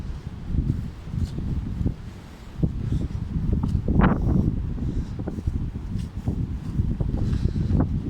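Strong gusting wind in an open field buffets the microphone with a heavy, low, rumbling roar, rising and falling in gusts, with faint rustling and occasional light knocks.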